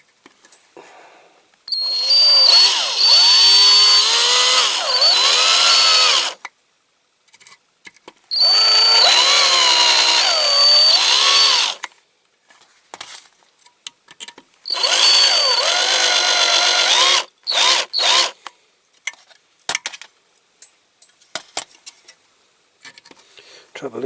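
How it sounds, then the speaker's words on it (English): A power drill bores into the metal body of a die-cast toy van in three loud, whining bursts several seconds long, its pitch wavering as it bites into the casting, with short clicks and handling noises in the quiet gaps between them. "Trouble is, I can't see how much sort of metal I've got to drill into here."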